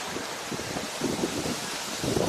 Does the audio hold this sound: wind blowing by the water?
yes